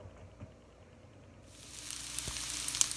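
Onions drop into bacon fat in a pan for sautéed collards, and a quiet background quickly turns into a rising sizzle with a few pops and crackles, close and without talking.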